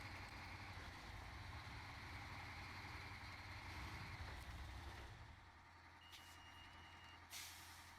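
A heavy truck in the off-road driving game Snowrunner idles with a deep, steady diesel rumble, then eases off with a hiss of air brakes and sharp reversing beeps; the engine drone holds at a moderate level throughout.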